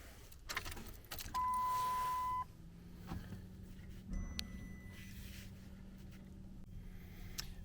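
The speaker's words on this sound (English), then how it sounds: "Turn ignition to the on position." A car key turned to the ignition-on position, with keys jangling close by, a steady warning beep for about a second, then a faint hum and a few more short chimes as the dashboard wakes.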